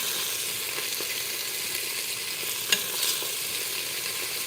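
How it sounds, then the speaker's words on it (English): Beef searing in a pot for stew, giving a continuous crackling sizzle with faint stirring scrapes and one sharp tap partway through, no speech. "So we are just searing the steak right now"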